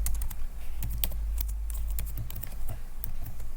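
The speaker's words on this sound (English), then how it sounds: "we write three double quotes in which we are going to write Elon Musk." Fingers type Python string code on a computer keyboard, a steady clatter of close key clicks lasting a few seconds with no talking.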